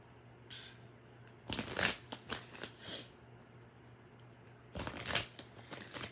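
Moonology oracle cards being shuffled by hand, heard as two close, crisp bursts of riffling and sliding paper, the first longer and choppier, the second brief, over a quiet room with a faint steady hum.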